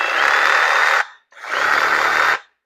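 A budget reciprocating saw runs unloaded at its lowest speed setting, giving two loud, close, buzzing motor bursts of about a second each with a short gap between them and no speech.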